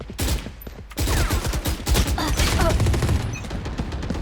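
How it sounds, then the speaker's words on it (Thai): Rapid bursts of gunfire in a shooter video game, loud sharp shots firing in quick succession, then a steady stream of rattling fire that continues to the end. "นี่เป็นการยิงหัวนัดสุดท้ายของผม"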